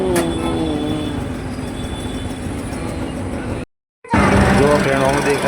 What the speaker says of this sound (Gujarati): આ છે તલતેજ મેટ્રો સ્ટેશન.